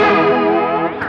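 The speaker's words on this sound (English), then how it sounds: "So when they're cranked, it's this. Like this very, very, very overly affected sound." A modulation pedal with its manual and depth knobs turned fully up gives a thick, heavily warbling, chorus-drenched sustained tone that fades out briefly, loud and close.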